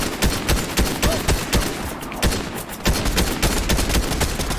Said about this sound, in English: Actually, they're shooting somebody else.